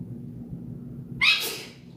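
A single sharp sneeze bursts out partway through, loud and close, over a steady low hum of room noise.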